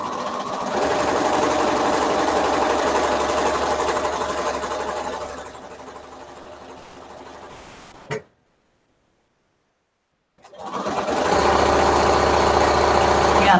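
Domestic sewing machine running steadily while stitching long strips for a quilt, a continuous close motor whir that slows, stops briefly in silence, then starts up again.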